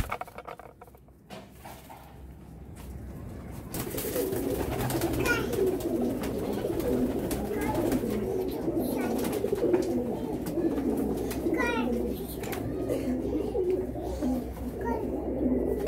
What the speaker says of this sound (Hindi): जी ये खुली आंख के कबूतर हैं